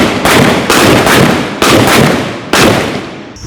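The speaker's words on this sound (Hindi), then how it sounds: "अभी पिस्टल फायरिंग करेंगे।" Pistol shots fired at an Indian Army range near the India-Pakistan border, four sharp loud cracks spaced roughly a second apart, each trailing off into a long echoing decay across open ground.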